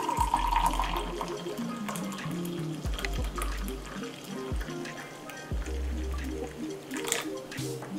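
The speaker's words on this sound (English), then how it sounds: "I'm gonna add more water." Water is poured into a drink being mixed from powder, a light trickle and splash at close range, with low background sounds around it.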